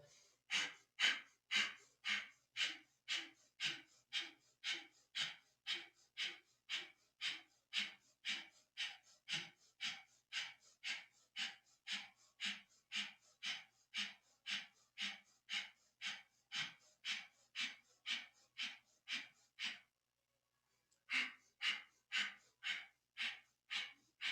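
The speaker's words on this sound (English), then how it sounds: "begin breath of fire, the rapid belly breath" Breath of fire in a Kundalini yoga session: rapid, rhythmic belly breathing with a forceful puff on each exhale, dozens of evenly spaced breaths close to the listener, briefly pausing near the end and then resuming.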